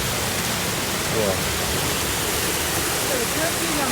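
Steady, dense rush of flowing water from a fountain in a large London park fills the whole clip, even and close, splashing continuously without pause.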